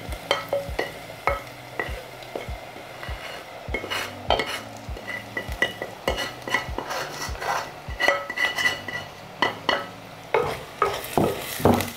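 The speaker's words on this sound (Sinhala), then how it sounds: "පොඩ්ඩක් කලවම් කරගමු." A utensil stirs a korali fish curry mixture in a metal pot, with clinks and scrapes tapping irregularly against the pot. A soft frying sizzle runs underneath, and no one speaks.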